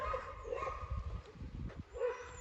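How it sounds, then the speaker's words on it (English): An excited dog barks in a quick run of several yips and barks. The sound is faint and somewhat distant over a steady background hum, with no talking. "That dog sounds excited"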